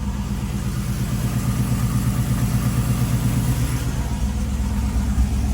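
Steady low engine rumble from an LS-swapped 1994 G30 van running at idle, continuous and close with a dense low-end drone and no voices.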